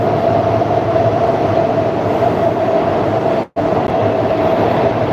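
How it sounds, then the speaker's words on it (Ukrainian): A Warsaw metro train riding along, with a loud, steady rumble and rushing roar of the carriage and a short abrupt dropout midway before the continuous noise resumes. "Отак, друзі, виглядає Варшавське метро"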